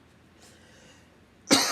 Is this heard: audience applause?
no